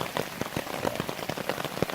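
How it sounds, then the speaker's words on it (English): Rain patters steadily on a camping tarp during a stormy October night, a dense spread of fine drops punctuated by sharper, irregular taps of larger drops, close and moderately quiet, with no one talking. "Okay, so you can see we're getting quite a little bit of rain."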